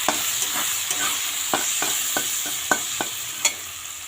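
Jackfruit seeds with salt and turmeric powder are stirred in a hot frying pan over a steady sizzle, with a dozen or so distinct spatula scrapes and clacks in an irregular rhythm, close and with no talking.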